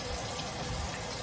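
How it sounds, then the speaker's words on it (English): Tap water runs steadily into a sink for hand washing before food prep, a loud close continuous splashing rush with no voices. "the first thing we're going to do is we're going to wash our hands"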